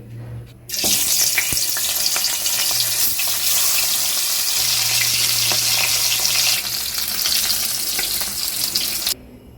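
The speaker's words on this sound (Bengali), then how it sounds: "মাছ ভেজে নেওয়ার জন্য কড়াইতে দিয়ে দিচ্ছি সর্ষের তেল" Hilsa fish head and tail pieces, rubbed with salt and turmeric, frying in mustard oil in a wok: a loud, continuous hissing sizzle that starts suddenly, holds for about nine seconds, then cuts off, with no voices.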